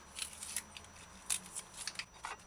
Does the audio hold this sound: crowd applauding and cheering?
no